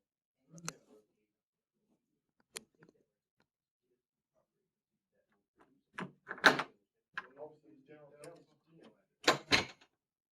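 Several sharp knocks and bangs of a door being handled and shut, scattered among brief moments of people talking nearby.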